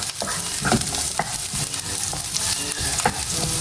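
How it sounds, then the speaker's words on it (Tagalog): Garlic and onion are sautéed in oil as the base for adobo, giving a steady sizzle. A spoon scrapes the pan with intermittent strokes close by, and no one speaks. "Ako po'y magigisa na ng ricado. Ayan. Inilagay ko na po yung bawang at sibuyas."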